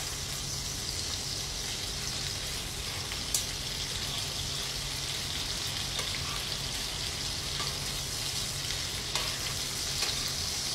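Shrimp and spinach sizzle in a pan for tomato pasta, a steady frying hiss with occasional clinks and stirring scrapes throughout, nobody talking.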